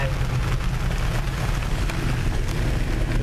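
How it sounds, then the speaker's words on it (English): Steady rain pours down in a constant dense hiss with low rumbling underneath, unbroken throughout. "It's raining."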